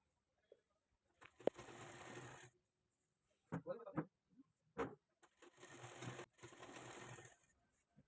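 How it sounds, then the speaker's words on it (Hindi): A sewing machine stitches a net frock with lining in two steady bursts of several seconds each, with a voice talking in the quiet gap between them. "हम सिलाई लगाना स्टार्ट करेंगे।"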